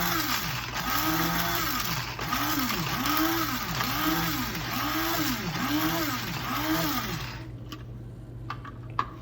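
An electric spice grinder whirs through a pastrami rub in close, loud pulsing cycles that swell and fade rhythmically for several seconds before cutting off, leaving quiet rattles.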